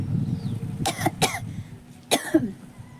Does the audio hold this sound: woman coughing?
yes